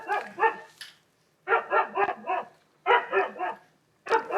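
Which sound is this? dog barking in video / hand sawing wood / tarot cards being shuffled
dog barking in video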